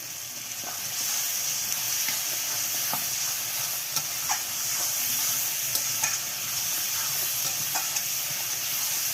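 Garlic paste for a cauliflower curry fries in a pan with a steady close sizzle, punctuated by light clicks and scrapes of stirring throughout.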